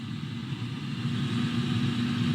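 A steady low hum and fan-like whir from an Instant Pot Duo Crisp pressure cooker air fryer running continuously, close by and moderately quiet.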